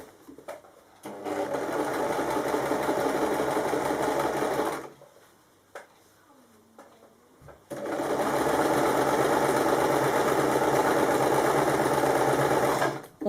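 A sewing machine stitches a kimono wrap top through both fabric layers in two long, loud steady runs of whirring, separated by a pause of a few seconds.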